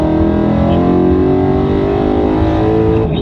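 A loud, steady V8 exhaust roar from a Ford Mustang Boss 302 holds at high revs near its 7,500 RPM redline, the engine droning close by and slightly rising before easing off at the end.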